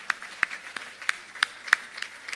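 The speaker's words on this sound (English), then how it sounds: "I think we should give another round of applause to the Bonington Hotel and for their kindness tonight." An audience at the LGFA All Stars 2021 ceremony in the Bonnington Hotel claps in a thin, scattered way, with about a dozen distinct handclaps popping out irregularly over a quiet room.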